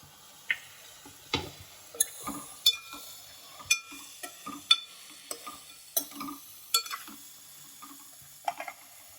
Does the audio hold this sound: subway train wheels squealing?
no